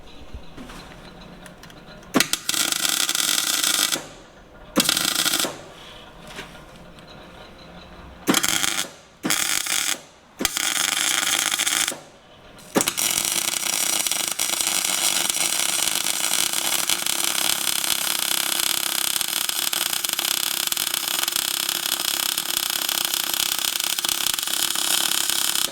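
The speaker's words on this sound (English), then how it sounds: "I'm going to weld this piece of steel in here" Steady crackling and hissing of arc welding a steel plate into a Chieftain main battle tank runs in several short bursts with pauses, then settles into one long continuous buzzing weld.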